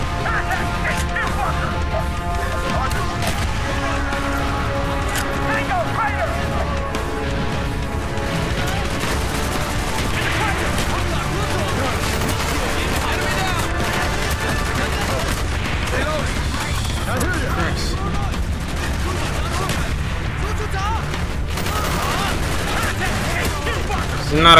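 Gunfire crackles steadily in a Call of Duty: Black Ops trench battle, a dense wall of overlapping shots and battle noise that runs without a break under a talking voice.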